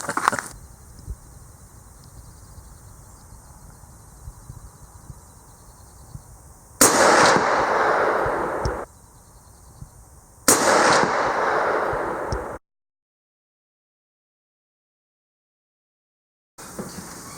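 A .375 Winchester rifle firing cast bullets outdoors: two loud sharp shots, each with a long rolling echo, over a steady background hum.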